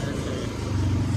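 A vehicle passes on a mountain road near a market, its engine a mid-pitched rumble that grows slightly louder toward the end of the short clip, with a faint voice in the background.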